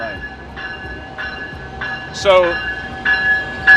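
An Amtrak Pacific Surfliner passenger train on its San Diego to San Luis Obispo route rumbles steadily nearby, with ringing tones and a brief horn-like sweep mid-clip, over the low constant roar of the cars.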